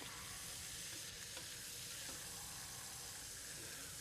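Sliced onions hitting a hot greasy pan, a continuous faint sizzle and crackle with light stirring, steady and unbroken throughout.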